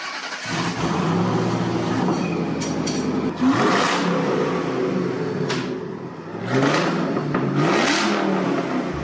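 A loud car engine with its exhaust completely removed revs hard and repeatedly, a raw, unmuffled roar rising and falling in several bursts with a brief dip in between.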